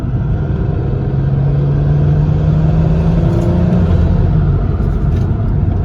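A BMW 340i with the turbocharged B58 engine, stock motor with a Docrace kit and 190k miles, pulls hard under acceleration, giving a loud, continuous engine drone whose tone climbs steadily as the turbo spools, with no talking.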